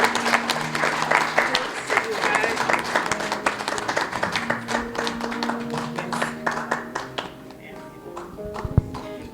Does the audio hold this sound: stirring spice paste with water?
no